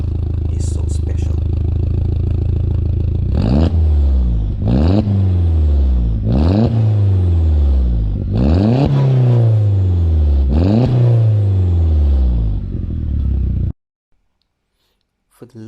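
2006 Seat Ibiza Cupra 1.8T turbo engine revving hard while driving, climbing through gears in five or six repeated rising sweeps with sharp drops at each shift, loud and close, then cutting to near silence at the end.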